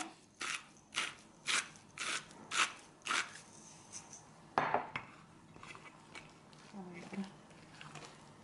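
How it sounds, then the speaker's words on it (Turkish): A utensil stirs flourless, gluten-free bread dough ingredients in a bowl, making about seven quick rhythmic scraping strokes, then softer, uneven clinks and scrapes, with a brief voice near the end. "Karıştırıyorum."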